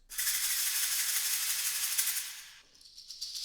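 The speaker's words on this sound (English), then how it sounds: "the goat nail shaker." A goat nail shaker from the EastWest Hollywood Fantasy Orchestra library rattles in one dense, bright, sustained shake, easing off and fading near the end, heard alone and close.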